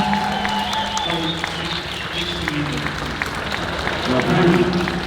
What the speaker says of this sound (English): Give him a nice round of applause, ladies and gentlemen